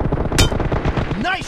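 M416 assault rifle shots in a team deathmatch shooter game, a close burst of rapid punchy reports with a sharp crack and a falling whine-like effect, loud over dense game noise.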